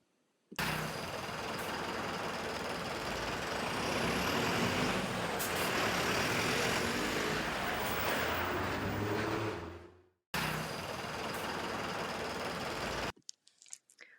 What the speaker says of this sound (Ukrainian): Автобус великий, зручний та швидкий.